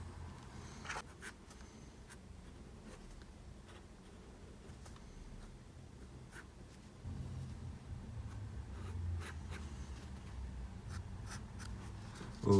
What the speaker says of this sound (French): avec le feutre noir Papermate, je vais rajouter des tout petits traits au niveau de la cagoule